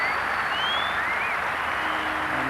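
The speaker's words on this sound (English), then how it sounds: "deservedly also brings a warm round of applause from this crowd at Old Trafford" A cricket crowd at Old Trafford during a 1994 Test against New Zealand gives a warm, steady round of applause, a dense wash of distant clapping that holds evenly throughout.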